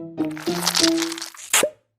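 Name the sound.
octopus crawling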